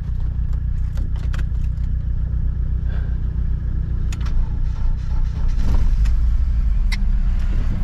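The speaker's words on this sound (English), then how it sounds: "That's how good the BMW engine is, like 6 months and nothing, like starts so easily." A BMW car engine turns over after sitting unused for six months and settles into a steady low rumble, with light clicks and rattles near the start and a brief surge partway through.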